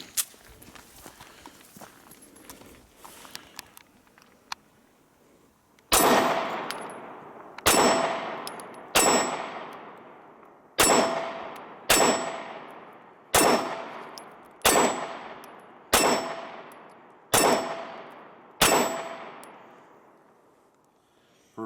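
Compact handgun fired at targets: ten sharp, loud shots spaced about a second and a half apart, each with a ringing decay, following a stretch of quiet handling and faint clatter.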